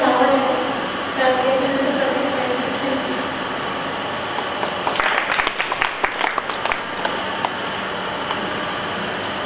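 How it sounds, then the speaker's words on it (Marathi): An audience at a state-level Manavadhikar Foundation convention in Vasai applauds, with steady crowd noise early on and then a burst of scattered, uneven clapping in the middle that trails off. "प्रोत्साहन म्हणून टाळ्या आपण वाजवले पाहिजे"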